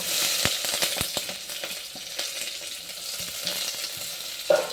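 Chopped large onion sizzling in hot oil in a pan while cooking a traditional fish curry, a steady broadband fry with a few sharp pops and spatters, close and fairly loud, no talking.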